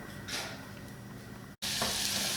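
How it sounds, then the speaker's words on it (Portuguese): Onion sautés in a triple-bottom pan for a leek quiche, giving a steady close sizzle with stirring scrapes. The sizzle cuts out for an instant, then returns louder and fuller, with no talking. "Então nós vamos refogar primeiro essa cebola"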